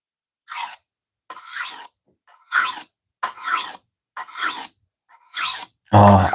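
A blade edge is sharpened in slow, deliberate strokes, about seven separate rasping passes with short pauses between them, close and clear with no talk.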